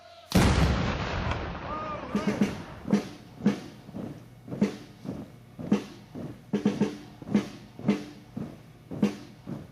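A volley of gunfire or cannon fire follows a shouted command to fire, with a loud opening blast and then a steady series of about a dozen sharp reports spaced roughly evenly, close and forceful.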